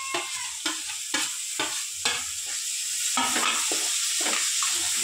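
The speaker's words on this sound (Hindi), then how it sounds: "एक बार ये हल्के से फ्राई हो जाएगा ना मसाला" Masala frying in ghee with tomatoes just added, a steady bright sizzle punctuated by repeated scraping stirs of a spoon in the pan, close and fairly loud, with no voices.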